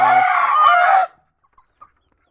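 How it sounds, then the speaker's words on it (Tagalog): A golden chicken lets out one loud, close, drawn-out call lasting about a second. A few faint, brief peeps from chicks follow in near silence. "Golden chicken. Ayan yung mga sisiyo."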